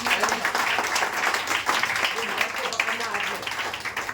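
Audience clapping loudly at a live speech event, a dense steady wash of applause filling the whole stretch with a voice or crowd murmur mixed in.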